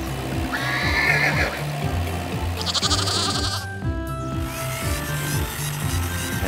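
Cartoon farm animal calls: a horse whinnies and sheep bleat several times over a steady rhythmic tractor chugging.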